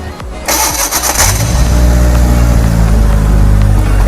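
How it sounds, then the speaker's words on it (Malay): An engine mounted on a training stand cranks briefly, then catches and roars into a loud, steady running drone, heard up close with no talking. "Kita tengok enjin ni boleh hidup atau tak."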